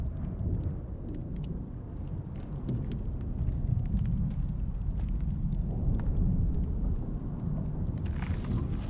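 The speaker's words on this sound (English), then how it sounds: "Just waiting on the worst of the storm to pass" Thunderstorm with rain in the survival game Icarus: a steady, low rumbling wash of rain and wind fills the whole stretch, with no voices over it.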